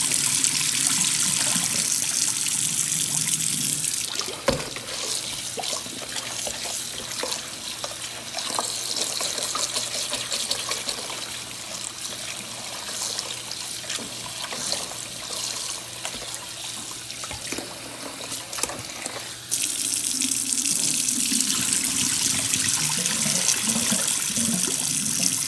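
Tap water runs steadily into rice being rinsed to wash off its starch, a continuous splashing stream that dips slightly midway before resuming, with no talking.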